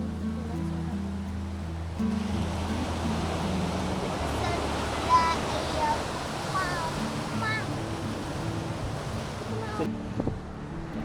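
Sea waves wash up on a beach at Mandaikadu in a steady, rushing surge with wind noise on the microphone, while people talk nearby over the surf.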